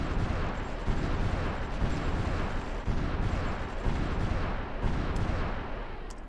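Artillery fire in the Supreme Ruler Ultimate strategy game, a continuous, loud, rumbling barrage of overlapping booms with a steady pulse of heavier blasts about once a second.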